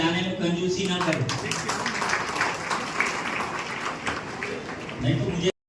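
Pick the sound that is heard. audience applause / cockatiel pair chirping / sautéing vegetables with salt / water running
audience applause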